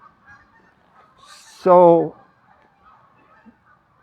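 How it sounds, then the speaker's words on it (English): Geese honk outdoors in a single loud burst of overlapping calls lasting about half a second, rising above a quiet background, with a faint voice speaking just before. "I hope you can hear the geese."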